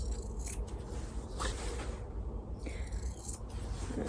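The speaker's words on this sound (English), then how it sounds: "All we need to do now is to take away some of the bulk from the corners, taking care not to cut through stitching." Scissors trim bulk from the fabric corners of a rag quilt cushion, a few short snips over a low steady background hum, close and soft.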